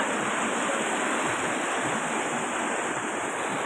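The flooded Sisarma river rushes past fast and high, a dense, continuous roar of churning water that stays loud and steady with no voices over it.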